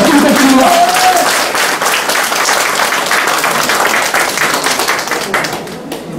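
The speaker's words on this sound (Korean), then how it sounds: "큰 박수 부탁드립니다." Audience applause rings out at the opening ceremony of a local council election candidate's campaign office, steady dense clapping sustained for about six seconds and tapering slightly at the end, with some voices briefly audible at the start.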